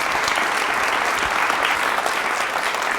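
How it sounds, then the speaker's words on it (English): A television studio audience claps steadily during a CPR special, a thick wash of applause that stays loud and even from start to finish with no voices over it. "Give yourself a round of applause, too."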